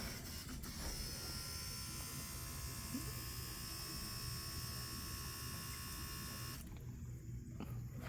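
Fuel being pumped into the carburetor bowls of a 1957 Chevy that has sat for 35 years, heard as a steady close electric buzz that runs unbroken, then changes abruptly near the end.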